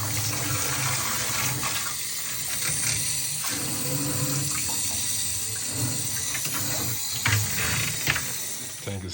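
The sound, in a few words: shower head spraying water to clean a fish tank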